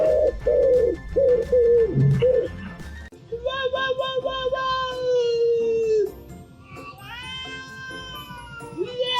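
A pigeon coos in a series of short, wavering calls close by. Higher, drawn-out calls follow in the second half, loud and alone with no talking.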